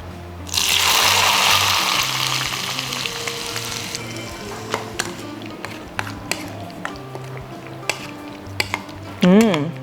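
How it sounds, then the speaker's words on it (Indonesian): Hot oil poured over sambal dabu-dabu bursts into a loud hiss that tapers over a few seconds, followed by scattered light clicks and clinks of utensils and a brief final rattle. "Karena kita mau tambah minyak ini juga kan."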